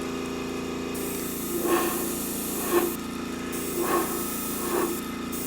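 Steady hiss of an airbrush spraying black acrylic paint, with soft rising swells of sound about once a second against a continuous background hum.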